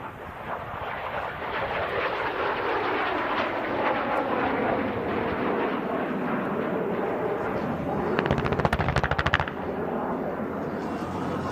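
Military aircraft performing a ground attack demonstration at the Hill Air Show, a loud sustained jet roar sweeping past, with a brief burst of rapid simulated gunfire pops near the end.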